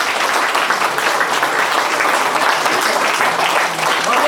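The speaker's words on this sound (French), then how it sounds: "Je crois que vous pouvez applaudir toute l'équipe." An audience applauds a team after an unbeaten season, with a dense, continuous roar of many hands clapping that stays loud and steady for about four seconds. Faint voices are mixed into the crowd noise.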